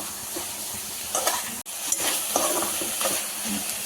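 Spinach frying in an open, uncovered pan, a steady close sizzle with intermittent scraping and stirring strokes, plus one brief sharp clack partway through.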